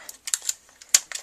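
Scissors snip off a small piece, giving a handful of quick, crisp, close-up cuts in an uneven rhythm with a short pause between them.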